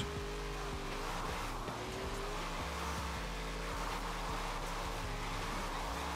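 A racing car engine roars steadily in a video game, its pitch shifting as it revs and shifts gears, with no talking.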